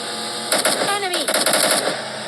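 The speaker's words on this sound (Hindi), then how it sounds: "कभी गाड़ी से टेढ़े हो के गोलियां मार रहे हैं" Rapid machine-gun fire from a vehicle in a video game, a dense burst of close, loud shots with a voice talking over the gunfire.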